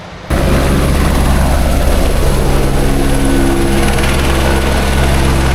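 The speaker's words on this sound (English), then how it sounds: "So just waiting on a chopper." A helicopter on the Everest Base Camp trek roars in abruptly after a brief quiet start, then holds a loud, steady rotor and engine drone close by with a low pulsing hum, no talk.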